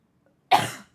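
A single harsh cough from a sick woman, sudden and close, cutting through near silence and fading within half a second.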